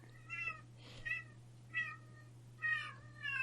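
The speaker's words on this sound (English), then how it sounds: "My cat has a lot to say." A talkative house cat meows five times in short, evenly spaced calls, close and clear over a steady low electrical hum.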